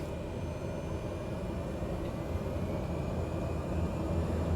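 A Cessna 208B Grand Caravan turboprop in Microsoft Flight Simulator 2020 spools up as the throttle is pushed forward on the runway, giving a steady, loud, low engine roar that builds gradually throughout, with no talking.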